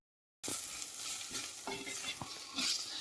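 Pork being stirred in a pan with masala and pepper powder for a Vaikom-style pork roast: a faint steady sizzle with scattered scraping and clinking strokes of a spoon against the pan, starting after a short silence, close and free of speech.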